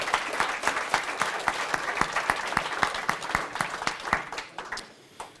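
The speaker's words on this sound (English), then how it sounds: "give your parents a round of applause, please" Audience applause for parents at a school team event, sustained clapping from a crowd with individual sharp claps standing out, steady throughout before tapering slightly at the end.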